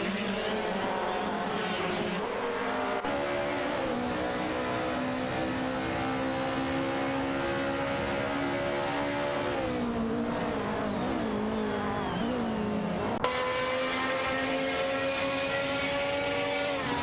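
AI-driven race cars in a racing video game, engines droning continuously with shifting pitch as cars rev and change gears, a steady loud mechanical whine throughout with no talking.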